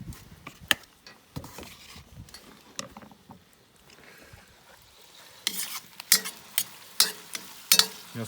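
Potatoes frying in hot oil in a pan, with soft stirring and scraping through the first half, then louder bursts of sizzle and spatter toward the end, close and without talk.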